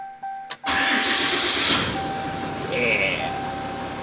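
A Cummins 6.7 diesel in a fifth-generation RAM dually pickup cranks briefly and catches, then settles into a loud, steady rumbling idle close by, with a faint whine running through it.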